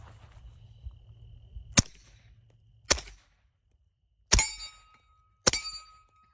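Four sharp shots from a suppressed Beretta M9A4 pistol firing 124 grain rounds, spaced about a second apart, each a close, loud crack with a short metallic ring trailing off.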